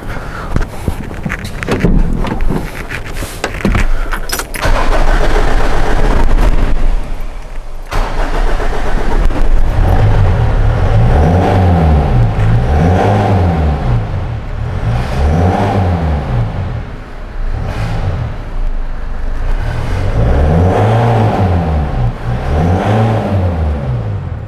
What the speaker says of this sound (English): I'm just gonna go and start the car and rev the car